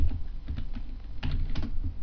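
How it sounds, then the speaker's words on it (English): Quick keystrokes on a computer keyboard spell out a short web address, a close, brisk run of light clicks with no talk. "so I have to actually type php.net"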